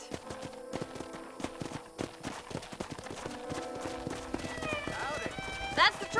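Horse hooves clip-clopping in Red Dead Redemption, an irregular walking hoof rhythm with voices talking over it and a brief horse snort or whinny near the end.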